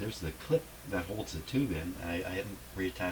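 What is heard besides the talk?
No distinct noise like a dog, phone or traffic.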